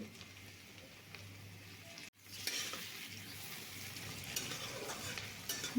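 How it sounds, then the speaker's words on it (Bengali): Chopped onions and tomatoes are stirred in oil seasoned with nigella seeds, a soft low sizzle with a brief drop-out, then fuller frying and scraping close by. "একটু নেড়ে চেড়ে তাতে কেটে রাখা টমেটো কুচি দিয়ে দিচ্ছি"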